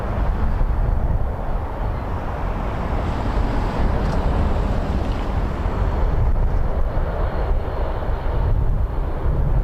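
An Air France Boeing 777-300ER airliner from Charles de Gaulle arrives at Toronto Pearson at night, its engines a loud, steady roar held close throughout, with wind buffeting the microphone.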